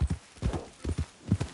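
Horse hooves clip-clop at a brisk trotting rhythm in the Red Dead Redemption 2 game world, several close, distinct thuds in quick succession.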